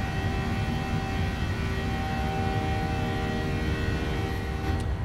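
Default engine sound of a PMDG 737-800 in Microsoft Flight Simulator: a steady, loud jet drone with a constant whine, unbroken for several seconds with no talk.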